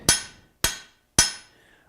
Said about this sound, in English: a couple of hammer blows will correct that